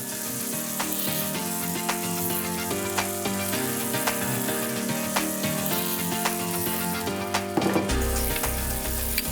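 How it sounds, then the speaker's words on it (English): Steady, loud sizzling of beef tenderloin pieces browning in a hot frying pan, with occasional pops and crackles and a brief scrape near the end. "Beautiful sizzle."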